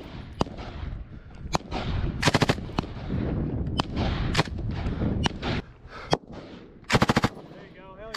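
Live-fire combat training exercise with a machine gun: rapid bursts and single sharp shots crack loudly at close range, mixed with more distant gunfire, while shouting voices come and go between the volleys.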